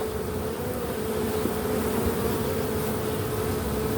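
Honey bees fill an opened hive with a steady, dense buzzing hum that stays close and constant throughout, with no voices over it.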